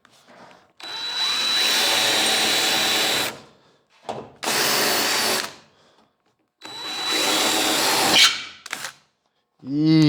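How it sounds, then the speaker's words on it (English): A power drill with a 3/16 bit runs in three long bursts separated by short pauses, drilling rusted metal on a 1951 Ford, loud and close, with a brief whir at the end. "So just running with a 3/16 drill bit."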